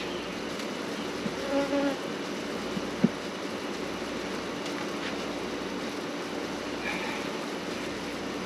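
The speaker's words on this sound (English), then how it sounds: "There are a lot of bees on this wall" Honey bees swarm an open hive during a summer inspection, with bees crowding a frame wall. Their dense, steady buzzing fills the whole stretch at close range, unbroken by talk.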